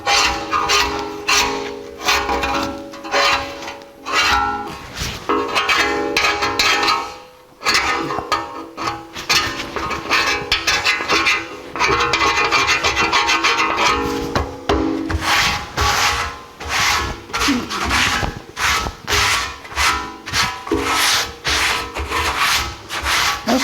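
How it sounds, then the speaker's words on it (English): Heat-softened coating scraped off a steel side step from a 1984 Jeep CJ7, a loud, continuous gritty scraping with rapid rhythmic strokes and short pauses, close up and filling the whole stretch. "it is hot enough for me to scrape this stuff off"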